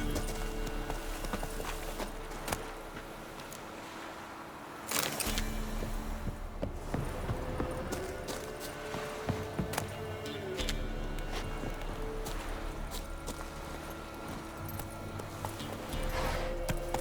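Hooves of the horse Roach clip-clop in the Witcher 3 video game, a steady run of close hoof beats over a low rumbling game soundtrack, with a brief quieter stretch partway through.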